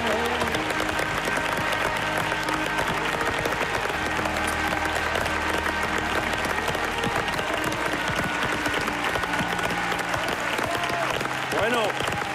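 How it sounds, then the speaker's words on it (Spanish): A television studio audience applauds steadily and loudly for the full stretch, a dense clapping wash with some crowd noise and faint voices underneath. "Le damos un fuerte aplauso a todos ellos por habernos acompañado, a María por estar con nosotros."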